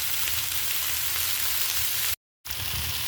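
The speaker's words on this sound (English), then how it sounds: "I'm just going to keep stirring this until it gets nice and soft" Onions, carrots, potatoes and black garlic sizzle steadily in a pan over medium-high heat, a close, continuous frying hiss with a brief dropout near the end.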